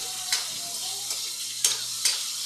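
Chopsuey vegetables, carrots and chayote, are stirred in a pan, with a few distinct scraping clinks over a steady low sizzle and no voices.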